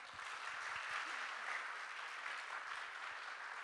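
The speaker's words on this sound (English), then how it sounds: "Can we give them a round of applause?" Steady, even applause from an audience at a Tzu Chi USA English retreat, a continuous wash of clapping heard alone at a fairly faint, distant level.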